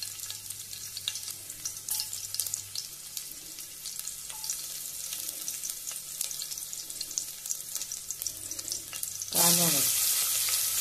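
Garlic frying in hot oil for a Konkani ladyfinger curry, a steady bright sizzle running throughout, then a loud surge of hissing near the end as more goes into the pan.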